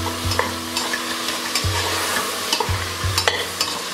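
Pieces of tomato frying in a pan with turmeric and salt are stirred with a spoon, a continuous sizzle broken by several sharp scrapes and knocks against the pan at an uneven pace.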